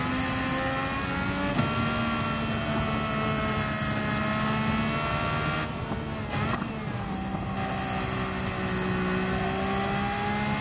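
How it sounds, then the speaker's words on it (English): A small high-revving 1495 cc V12 engine in a racing video game holds a steady, sustained whine with bright harmonics, shifting pitch briefly midway before settling again, loud and continuous with no talk. "High rev V12"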